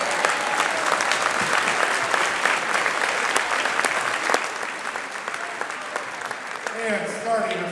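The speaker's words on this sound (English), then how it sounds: "Let's give a nice round of applause." Audience applause at the 2025 Festival of Bands in Mount Vernon, a dense, steady clapping crowd filling the space for several seconds before thinning toward the end, with voices emerging under the fading claps.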